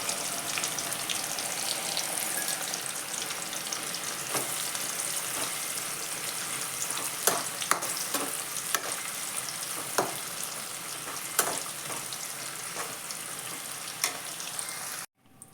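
Sliced food fries in a pan with a close, steady sizzle and scattered crackles and pops. It keeps going without a break until it cuts off sharply at the end.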